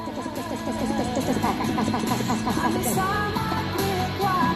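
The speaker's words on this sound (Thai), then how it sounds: "เห็นไหมเสียงเพลงดังขึ้นมาแล้วนะ" Music with a steady rhythmic beat plays from a website in a browser at moderate volume, sounding like computer playback, continuing without a break.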